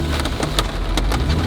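Heavy rain falling loudly and close, a thick continuous wash broken by sharp drop impacts, heard during a Georgia overland trip while a trailer is being backed up, with no talking.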